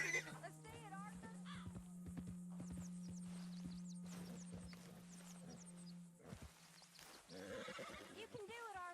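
Horse whinnying and neighing in the Red Dead Redemption 2 video game, with hooves clopping, under game characters' talk and a steady tonal hum.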